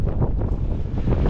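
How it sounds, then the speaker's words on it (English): Wind buffets the microphone in a low, steady rumble with gusty fluctuations, no other sounds. "still windy here, as you can tell."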